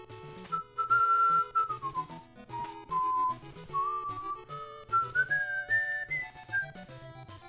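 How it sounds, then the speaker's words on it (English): A person whistles a wobbly, off-key tune close by, a series of sliding, uneven notes with short breaks between phrases. "That was the worst whistling of all time."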